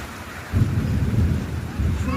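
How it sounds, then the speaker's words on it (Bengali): A deep rumble of thunder rolls in under heavy, steady rain during a dark monsoon downpour. The rumble is loud and swells after half a second, with the rain hissing throughout. "শুনতে পাচ্ছ মেঘের গর্জন?"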